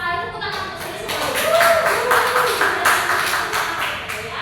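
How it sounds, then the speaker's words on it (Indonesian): Students in a classroom clap together in a lively, fairly close burst of many hands that rises and holds steady, with a few voices mixed in among the claps. "tepuk tangan untuk saya semua"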